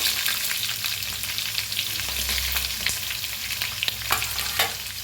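Onion and green chillies frying in hot oil with asafoetida and curry leaves for a tempered rice dish, a steady close sizzle with a few soft stirring clicks and no voices.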